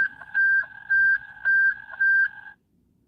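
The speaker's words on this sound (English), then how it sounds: "Another fire page." Fire department paging tones come over a scanner radio in Red Wing, Minnesota, as a steady electronic tone broken by four regular alternating pulses, ending abruptly in near silence; clear and fairly loud, with no speech.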